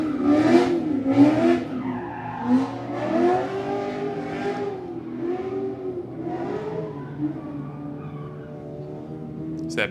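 A car slides and skids through a cone course on a drift run, engine revving and tires squealing in waves that rise and fall, fairly close and steady throughout with no talk.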